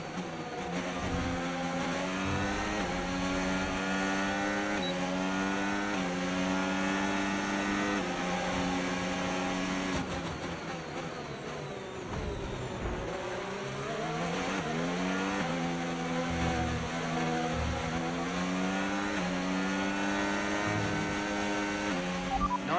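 Formula 1 car engine in the F1 25 racing game, a loud high-revving whine climbing and dropping through repeated upshifts and downshifts, continuous for the whole stretch with no talk.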